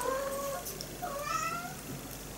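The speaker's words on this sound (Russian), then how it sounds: "Там слышно кошку." Domestic cat meowing indoors, several drawn-out rising and falling meows at moderate distance over a steady low background hum, with no talking.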